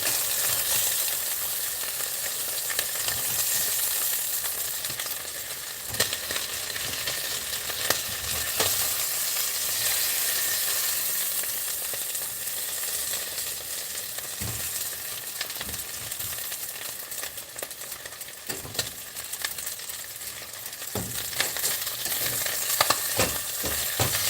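Food is stirred and scraped around a hot frying pan, a steady sizzle running throughout with frequent sharp utensil scrapes and clinks against the pan, close and fairly loud, with no voices.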